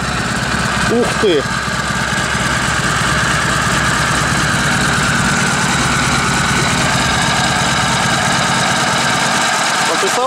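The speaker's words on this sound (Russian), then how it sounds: "И какие звуки издает двигатель. Ни стуков, ни всяких, ни хрюков." A K-750-based bobber motorcycle engine turns over and settles into a steady, loud idle with a constant rumble, and a person exclaims near the start.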